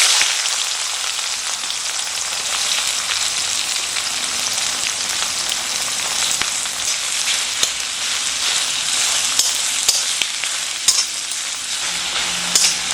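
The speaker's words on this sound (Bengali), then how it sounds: "এর মধ্যে এবার পেঁয়াজটা দিয়ে দিচ্ছি।" Onions frying in hot oil with a bay leaf and whole garam masala, including cracked cardamom, for village-style Kadaknath chicken curry: a steady, dense, close sizzle that continues unbroken from start to finish.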